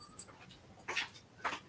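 A dog at home gives faint, soft whimpers and breathy pants in short bursts, close by and quiet.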